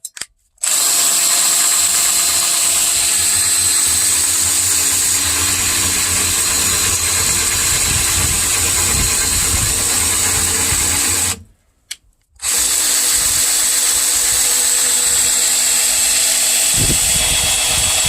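A power drill spins an old ATV winch motor in two long, loud, steady runs separated by a brief pause, whining and rumbling without bogging down.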